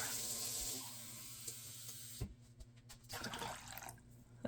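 Hot water poured from a container into a bowl for bread dough, a steady close splashing rush that cuts off partway, followed by quieter trickles and a clatter at the end.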